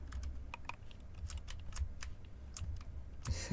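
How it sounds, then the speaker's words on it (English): Typing on a mechanical computer keyboard during gameplay, close and moderately loud, with irregular sharp key clicks in quick bursts and short pauses, no voices. "Only downfall of mechanical keyboards. But I love the sound."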